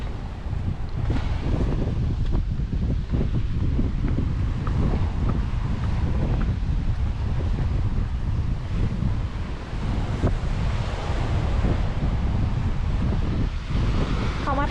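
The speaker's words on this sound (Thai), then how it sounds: "ลมแรง คลื่นแรง น่าจะห้ามลงเล่นน้ำแหละ" Strong wind buffets the microphone over rough surf on a black sand beach at Canical, Madeira, a loud continuous roar of crashing waves and gusts.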